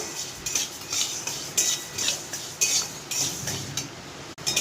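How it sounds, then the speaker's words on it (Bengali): A metal spatula repeatedly scrapes and clinks against a wok while mung dal is dry-fried and stirred, a steady rhythm of sharp scraping strokes, close and fairly loud. "দেখ কড়াইতে মুগ ডাল দিয়ে দিচ্ছি, একটু ভেজে নিচ্ছি।"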